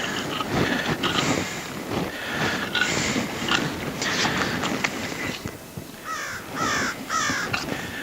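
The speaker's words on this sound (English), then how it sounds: "Even the crow's impressed." Several crows caw in short repeated bursts, moderately near, over a busy outdoor background by a compost pile with some scuffling noise.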